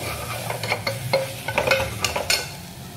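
A spoon stirs biryani masala through chicken pieces in a pot, giving a run of close scraping and squelching strokes with a light sizzle and no talking.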